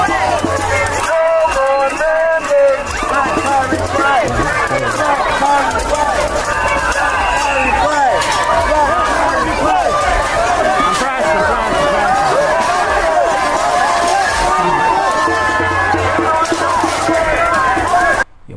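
Anti-mandate protesters outside Barclays Center raise a loud, dense crowd noise of shouting and chanting voices, sustained throughout with rhythmic surges and scattered yells from a close, packed throng.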